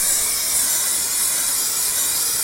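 Spray paint hisses steadily from an aerosol can as a thin coat goes onto a horizontally laid workpiece, a continuous close, bright spray without pause or talk.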